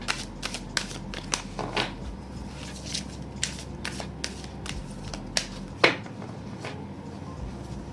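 Tarot affirmation cards are shuffled and handled close up, with a steady run of crisp card flicks and snaps over a low background hum.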